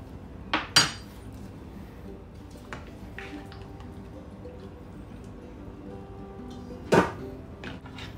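Goat meat for adobong kambing being moved into a bowl and washed, with a few sharp clattering knocks of metal on the bowl near the start and again later, separated by quiet handling.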